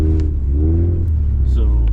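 A Subaru sliding on snow gives off a steady low engine drone with a deep rumble that rises and falls slightly, continuous and fairly close throughout.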